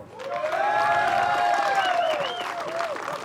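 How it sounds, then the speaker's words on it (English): Disc golf spectators at a professional tournament applaud in a sustained wave of clapping, loud and dense, with faint cheering and a few whistles, tapering toward the end. "A lot of applause"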